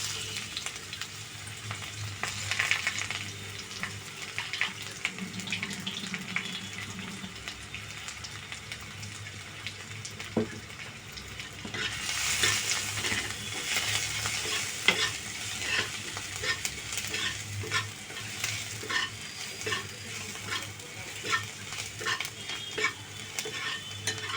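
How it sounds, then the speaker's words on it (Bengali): Garlic frying and being stirred in hot oil as a tempering, a steady sizzle with scraping utensil strokes against the pan, close and continuous, no talk. "খানিকটুকু রসুন সম্ভরা দিয়ে দিলাম"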